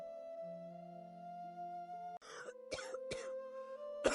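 A few coughs break through a quiet background of soft sustained music, coming in short rough bursts near the end.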